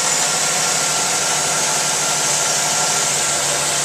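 A 2007 GMC Sierra 1500 pickup truck engine idles steadily and smoothly, a broad, hissing drone that holds constant and loud the whole time.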